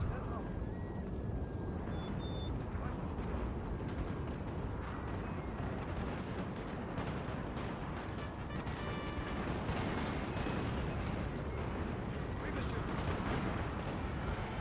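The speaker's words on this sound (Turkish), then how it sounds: "Yoğun bir çatışma, tüfekler patlamakta, yoğun atışlar, süvari hücumlarımız var." Heavy musket and rifle volleys roar from a Napoleonic battle in Napoleon Total War, a dense, unbroken din of overlapping shots and rumble, with a voice talking over the fighting.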